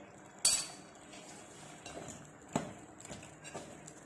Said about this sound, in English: Now we have to stir it.